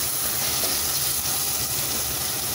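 Tomatoes sautéing in a pan for mushroom biryani, giving a steady, dense sizzling hiss that holds even throughout without pauses or voices.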